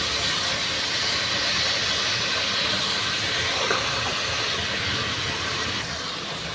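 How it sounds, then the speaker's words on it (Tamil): Tomatoes sauté in a pan for paneer biryani, giving a continuous, fairly loud hissing sizzle that stays even throughout, with no talk. "தக்காளி வந்து நல்லா வதங்கணும்"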